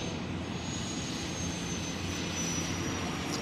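A Ghia turbine car passing on a race track at a speed festival, a loud steady jet-like whoosh and rumble that holds evenly throughout.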